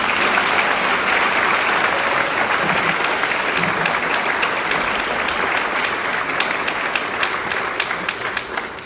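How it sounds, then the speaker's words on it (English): Friends and family at a graduation ceremony give the graduates a sustained round of applause, a loud, dense wash of clapping from a large crowd that holds steady and begins to thin toward the end. "give you all a nice clap"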